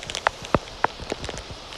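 Heavy raindrops striking surfaces during a storm in a forest, a few distinct loud splats and taps scattered over a soft steady patter.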